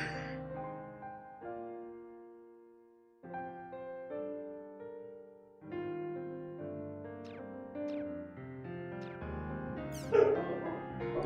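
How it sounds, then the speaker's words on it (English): Dogs bark and yip in the video game Volume 1 Rebirth, set against sustained musical tones. A louder, sharper cluster of barks comes near the end. "And dogs. Dogs too."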